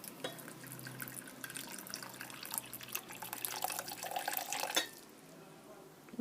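Roughly 150 ml of liquid is poured into a container, a faint, steady trickling splash lasting several seconds that stops abruptly, heard close in a quiet room.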